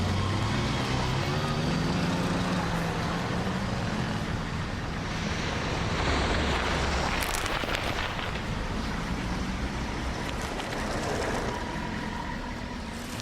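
Road traffic passing on a street where crows drop nuts for cars to crack, a steady broadband rumble of vehicles with a louder pass swelling around the middle, heard alone with no talk.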